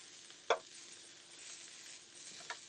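Bacon sizzles on a grill with a soft, steady hiss, broken by a sharp scrape or tap near the start and a lighter one near the end.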